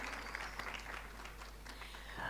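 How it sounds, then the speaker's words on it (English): Audience applause for conference speakers in a hotel plenary session in Johannesburg, steady dense clapping from a crowd, fairly faint and continuous for a couple of seconds. "Please, a round of applause for all of our speakers of the day in plenary 2."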